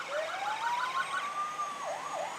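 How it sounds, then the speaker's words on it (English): A fire engine's wailing siren rises and then warbles in quick cycles, passing at moderate distance in a Fourth of July parade over faint traffic noise. "Got the Hamlin fire engine."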